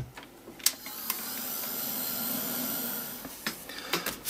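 A handheld drying tool blows steadily on a painted art background, a soft continuous whirring hum lasting a few seconds, framed by light clicks and handling noises at the start and end.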